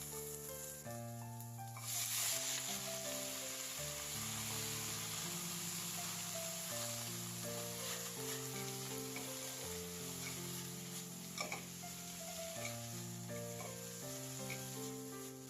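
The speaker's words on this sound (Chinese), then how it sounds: "锅再上火，放入蒜、葱末爆香。 接着放入青菜茎翻炒，" Vegetable stems stir-fry in a wok with garlic and scallion, a faint steady sizzle running beneath louder background music.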